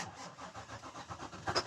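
Power Stroke 7.3 diesel truck engine with a no-start fault cranking in a steady rhythmic churn, the rough mechanical pulses rising at the end as it catches, fairly quiet and without speech.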